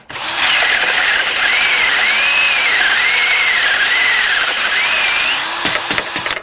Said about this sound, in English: Even a little battery operated drill will drill those holes.